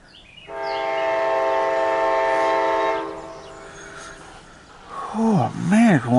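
A CSX mixed freight train sounds a long, steady, loud horn blast. Afterward comes a quieter stretch of rumbling and wavering tones as it passes.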